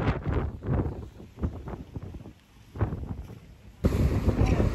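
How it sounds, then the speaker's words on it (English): Strong wind at a kite surfing spot buffets the microphone in heavy, uneven gusts, roaring loudly with brief lulls between blasts. "Is it windy or what?"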